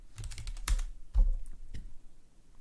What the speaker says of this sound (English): so I will just type in portable fan.